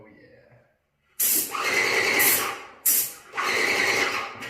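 Aerosol spray paint hisses in two long bursts with a short break between, close and loud, touching up a car's British racing green paint; faint talk sits before the spraying.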